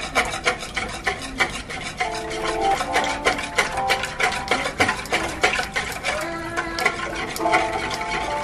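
Butter is worked into bread dough by hand or spoon, a steady stream of close rubbing, squishing and scraping strokes with fast irregular rhythm, no voices over it.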